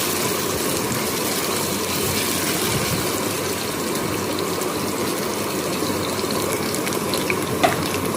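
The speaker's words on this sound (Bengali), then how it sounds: "দেখুন, হালকা একটু নাড়াচাড়া করে নিই।" Potato pieces for a mixed vegetable curry sizzle and hiss steadily in a frying pan while being gently stirred, a constant close crackle with faint scraping and a small clink near the end.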